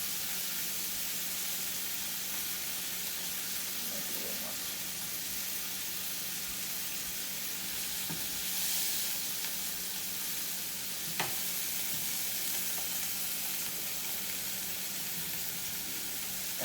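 Garlic and thyme sizzle in a pan with steak, giving a steady broadband frying hiss, with a few faint clicks and taps.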